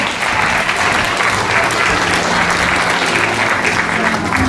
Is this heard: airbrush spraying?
no